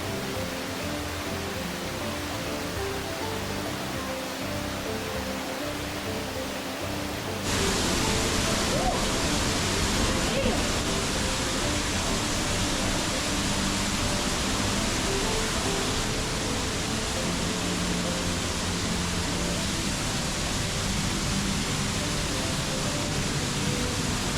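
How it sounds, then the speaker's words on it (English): Desert oasis waterfall crashing onto huge boulders, a steady broadband roar that jumps louder after a few seconds and holds constant, close and alone. "the sheer force of the falls is broken by these ginormous boulders"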